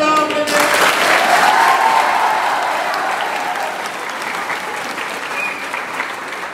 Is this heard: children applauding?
yes